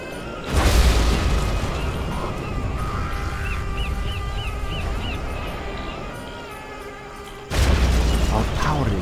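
Cruise missile strikes in Command & Conquer Generals Zero Hour: two heavy booming blasts, one at the start and one near the end, with a dense rumbling battle din and faint honking calls between them.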